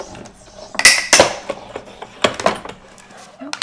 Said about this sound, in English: let's send this on through and see how neat this die is